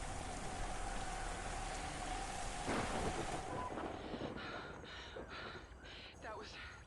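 Heavy rain in the zombie shooter game Into The Dead 2 pours down as a dense, steady hiss, with a voice talking over it toward the end.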